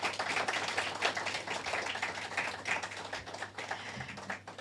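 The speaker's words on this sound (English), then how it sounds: "Let us give them all a big round of applause." Audience applause at an award ceremony, a steady wash of many hands clapping at moderate volume, dense and continuous for several seconds with no voices on top.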